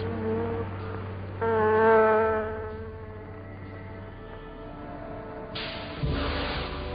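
Insect buzzing in the style of a wasp sound effect, a steady droning hum that swells and fades over several seconds, heard alone with a low tonal bed beneath it.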